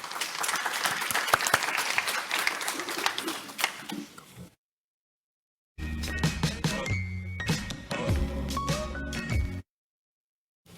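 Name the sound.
audience applause for conference panelists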